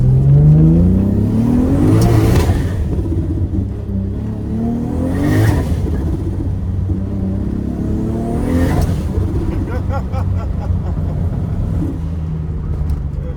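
A car makes a hard rolling launch in first gear, its engine rising loudly in three steep revving sweeps with sharp cut-offs between them, close and continuous.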